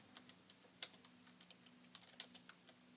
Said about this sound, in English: I'm literally typing it in on my computer